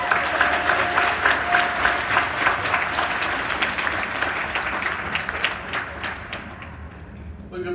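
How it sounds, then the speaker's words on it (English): Audience at a Women in STEM event applauding, a sustained round of many hands clapping that fills the room and tapers off toward the end. "Let's hear another round of applause for you."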